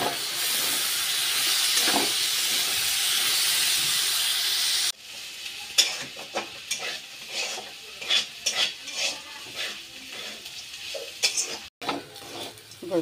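Bean seeds and green chilies go into hot oil, giving a loud hissing sizzle that later settles into quieter frying with repeated scraping and stirring clicks in the pan.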